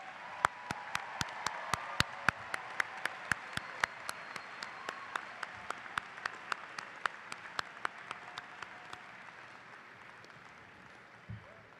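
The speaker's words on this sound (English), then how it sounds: "Let's hear a round of applause for all those loved ones that helped you get to this stage." At a 2018 high school graduation ceremony, an audience applauds while a few loud, evenly spaced claps stand out sharply in front, each a crisp close hit repeating about every third of a second before stopping.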